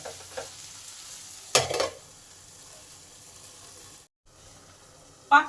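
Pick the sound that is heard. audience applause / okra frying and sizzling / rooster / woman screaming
okra frying and sizzling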